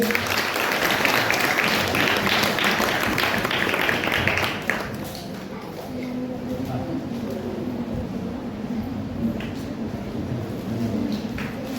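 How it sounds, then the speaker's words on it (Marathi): Loud applause from an audience welcomes guests at a Shiv Sena (Uddhav Balasaheb Thackeray) eco-friendly Ganesh idol-making competition event; the dense clapping dominates the first half, then the crowd noise drops to a lower murmur. "जोरदार टाळ्या वाजवून दे।"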